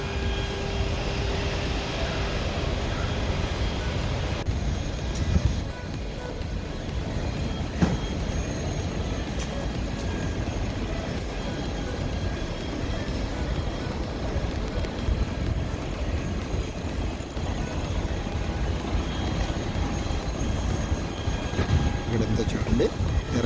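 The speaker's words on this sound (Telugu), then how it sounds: "ఇప్పుడు రన్వే మీద నుంచి ఇంకా టేక్ ఆఫ్ అవడానికి బయలుదేరింది" A loud, continuous jet engine roar fills the air as an airplane powers down a runway for takeoff at Chennai International Airport, with muffled voices underneath.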